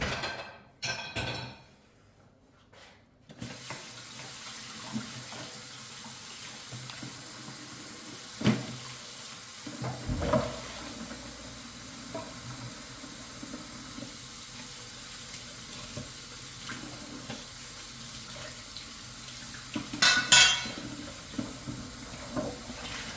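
Kitchen sink tap running while the sink is cleaned, a steady low rush of water throughout with occasional clatters and knocks, plus a few louder thumps near the start.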